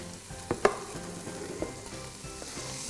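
Onions, garlic, a bay leaf, carrots and mushrooms cooking in a pan, a low sizzle with a few sharp stirring clacks of a utensil near the start, close and without speech.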